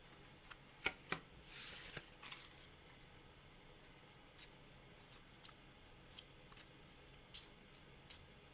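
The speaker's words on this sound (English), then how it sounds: "we're going to go ahead and shuffle these up" A deck of game cards being shuffled by hand during a solo card game round, with a few sharp riffle snaps and a brief burst of flutter, then quiet intermittent card taps and clicks, close and soft with no talk.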